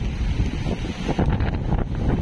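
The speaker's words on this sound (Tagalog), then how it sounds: "Grabe yung hangin." Strong gusts roar against the microphone on the coast of Dinahican, Infanta, Quezon during Super Typhoon Pepito, a loud, continuous rumbling buffet that surges and swells without any speech.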